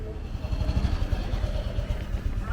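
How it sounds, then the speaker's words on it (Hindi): A motorcycle engine idling close by, a low steady throbbing rumble with a slightly uneven pulse and no clear revving. "आ गई है अपनी बाइक"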